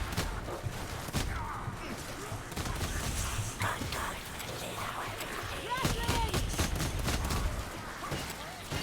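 Pistol gunfire in a video game battle against groups of infantry, with a brace of pistols firing, repeated cracking shots amid a dense continuous din of combat noise, with speech over it.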